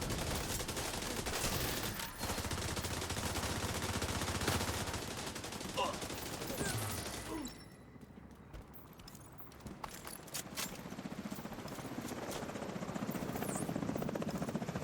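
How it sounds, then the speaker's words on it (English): A helicopter in a video game mission whirs steadily under dense gunfire and game noise, loud at first and then briefly quieter before the mix swells again. "Chopper and then the door."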